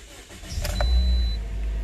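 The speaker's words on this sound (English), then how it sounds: "I'm gonna put it into the initial real quick and then start the car." A Toyota Corolla engine starting up close by, with a brief crank that catches into a steady low idle rumble over less than two seconds and no voices.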